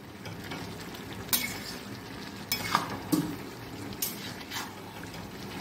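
Raw mung dal is stirred into a bottle gourd curry in a pan, with soft scraping and intermittent spoon knocks against the vessel over a low sizzling background.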